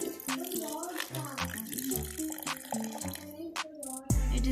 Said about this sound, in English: Now I'll put this dirty water in this, and first it will go from the stones, then from sand, and then from cotton.